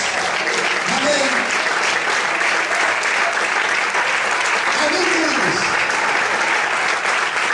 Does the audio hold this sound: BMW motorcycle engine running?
no